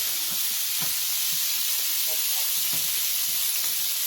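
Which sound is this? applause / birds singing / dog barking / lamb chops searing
lamb chops searing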